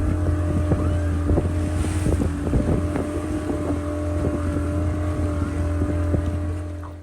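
A motorboat engine drones steadily close by as the boat slows on approaching St. Mary's Island, with wind buffeting the microphone and faint knocks over the constant hum.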